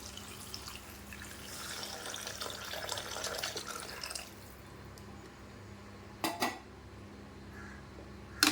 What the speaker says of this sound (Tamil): இப்போ அந்த புளித்தண்ணியை ஊற்றுறேன்